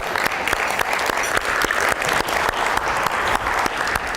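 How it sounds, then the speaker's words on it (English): Loud, sustained audience applause welcoming a state assemblymember to the stage at a keynote event, steady clapping continuing without a break throughout. "Let's have him come on up to the stage with a round of applause."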